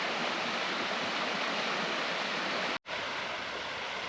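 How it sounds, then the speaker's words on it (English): The spillway dam waterfall at Dixon Springs State Park roars as a steady, loud broadband rush of falling water, unbroken apart from one brief dropout near the end. "that was Dixon Springs State Park Spillway Dam Waterfall"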